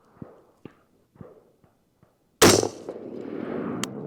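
A single sharp precision rifle shot fired while zeroing on an outdoor range, loud and abrupt after a few quiet handling clicks, followed by a decaying echo and a small click.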